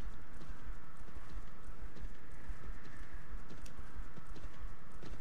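Horse hooves gallop in a steady, rapid clip-clop rhythm inside the online fantasy MMORPG Champions of Regnum, a continuous loud pounding with game ambience behind it and no talk.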